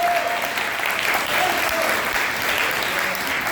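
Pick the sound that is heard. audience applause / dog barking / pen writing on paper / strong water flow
audience applause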